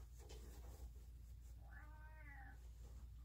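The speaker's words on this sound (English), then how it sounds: "It's my geriatric cat." An elderly cat gives a single clear, drawn-out meow partway through, close to the microphone, over a low steady background hum.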